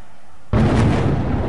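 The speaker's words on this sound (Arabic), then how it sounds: "قصف على المدينة" A heavy blast from shelling on Moadamiyah near Damascus erupts suddenly after a quiet moment and roars on loudly with rumbling decay, captured during intense bombardment in 2012.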